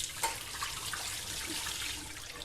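Lentils being rinsed under running tap water, a steady splashing wash of water into a bowl or sink at close range, with no talk.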